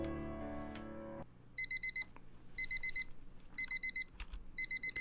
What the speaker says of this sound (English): My mind is violently snapped back into wakefulness by the sudden blaring noise of the alarm.